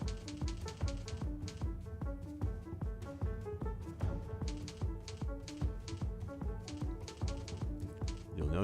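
Rapid, even keystrokes on a computer keyboard, close and dry, clicking in steady bursts with brief pauses between runs.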